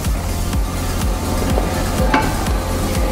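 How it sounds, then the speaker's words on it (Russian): Meat sizzling and frying in hot oil in a pan for a Central Asian lagman dish, a steady close crackle with repeated stirring scrapes and occasional utensil knocks throughout. "Мясо хорошенько обжариваем до золотистой корочки."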